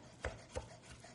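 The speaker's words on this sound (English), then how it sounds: "So I'm going to grab a little bit of parsley, and we'll chop it up." Parsley chopped with a flat-bladed knife in a rocking motion, two faint, distinct knife strikes against a cutting board followed by a softer third tap, quiet and close.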